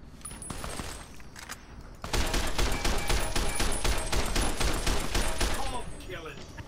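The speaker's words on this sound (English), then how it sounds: "Let's use a service rifle." Service rifle gunfire in the video game Fallout: New Vegas, a sustained run of rapid, loud shots after a quieter opening, with game ambience and a voice underneath.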